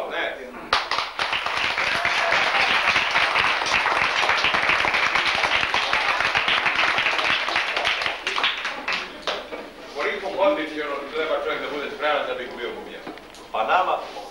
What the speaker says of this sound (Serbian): Jel to ne zasluži aplauz?